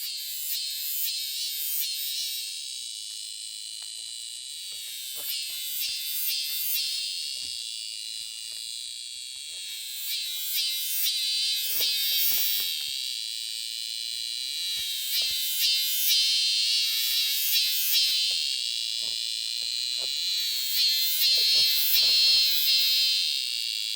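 Korean chammaemi cicadas shrill loudly in a summer countryside setting, a continuous high buzzing drone that swells and pulses with rhythmic chirping bursts throughout, close and alone with no voices.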